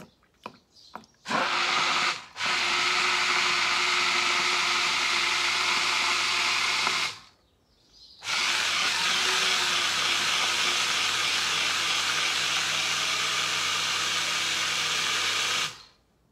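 A blender grinding hazelnuts into vegan hazelnut milk runs as a loud, steady whirring roar in two long stretches, with a brief stop between them and a few short pulses at the start.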